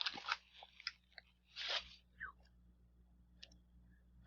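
Someone bites into a fruity cereal Kit Kat, producing several sharp, close crunches followed by quieter chewing clicks in an otherwise quiet room.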